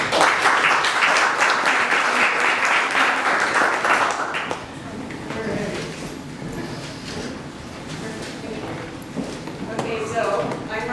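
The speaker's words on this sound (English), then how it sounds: "please give a warm round of applause for Robin" A live audience at a small business meetup claps to welcome a speaker: dense, loud, crackling applause for about four seconds, then it stops abruptly and gives way to a quieter room with someone beginning to talk.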